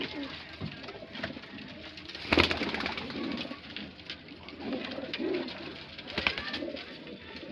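Domestic pigeons sold as flying birds coo in soft, repeated rumbling calls close by, with a few sharper rustles and wing flutters in between.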